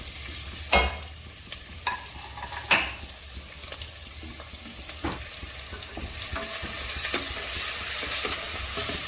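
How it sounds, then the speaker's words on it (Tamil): Onions sautéing in oil with star anise and a bay leaf for a country chicken curry, giving a steady close sizzle broken by sharp spoon-against-pan stirring knocks, growing louder and fuller toward the end. "ரெண்டு மீடியம் சைஸ் வெங்காயம் நல்லா வதக்கிக்கணும்."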